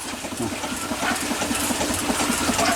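Small homemade steam engine running alongside a second engine, fed by a feedwater tank, heat exchanger and steam pump: a steady, fast chuffing and mechanical clatter with a busy hiss, continuous and close, no talk.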